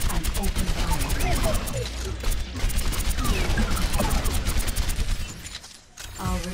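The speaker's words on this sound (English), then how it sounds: "Aim in the direction of an enemy and open fire." Soldier 76's rifle fires in rapid sustained automatic bursts during an Overwatch tutorial, loud and continuous with a brief pause, while voices talk over the shooting.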